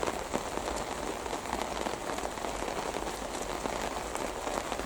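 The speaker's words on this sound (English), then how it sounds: "the bloody rain started." Rain patters steadily on an allotment plot with greenhouses, a dense, even hiss of drops with scattered closer taps and no voices.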